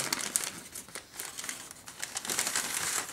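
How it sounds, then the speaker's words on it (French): Crinkling and tearing of German newspaper as a package is unwrapped, a continuous close rustle with bursts of crumpling throughout, fairly quiet and without talk. "On va essayer de vous faire un petit déballage."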